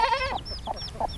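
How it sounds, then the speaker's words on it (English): A bantam hen shelters two chicks under her during a storm, giving a few soft, short clucks that repeat about every third of a second, close by and moderately loud over a steady background. "Mama Hen is protecting her babies from the storm."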